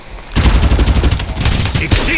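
Dense, loud gunfire erupts in a Farlight 84 firefight: overlapping rapid automatic bursts that start suddenly and continue without a break to the end.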